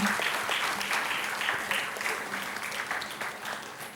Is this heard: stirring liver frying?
no